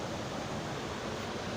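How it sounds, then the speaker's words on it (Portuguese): A small, weak waterfall on a forest trail gives off a steady, even rush of falling water, constant and unbroken with no voices over it. "Olha essa cachoeira aí, ela é fraquinha"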